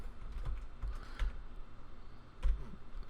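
Keys tapped on a computer keyboard while entering a terminal command, a few quiet, sparse clicks with short pauses, heard alone.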